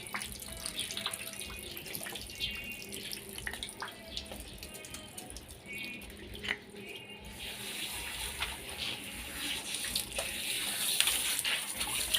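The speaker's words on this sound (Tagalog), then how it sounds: "tara guys banlawan na natin banlaw-banlaw" Tap water runs steadily into a sink while hair dye is rinsed out at home, a continuous splashing gush that holds throughout and grows slightly louder toward the end, with no talking.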